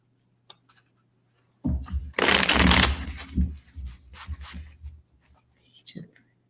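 Deck of prediction cards shuffled by hand, a loud close riffling burst lasting about a second followed by softer card slides and taps, with faint quiet handling around it.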